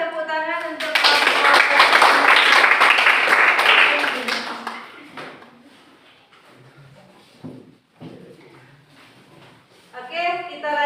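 A group of classmates applauds the presenting group in a school classroom lesson, a dense, loud burst of clapping lasting a few seconds before it gives way to a teacher's talk.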